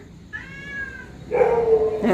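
A cat meows twice up close, first a thin, drawn-out high cry, then a louder, fuller meow.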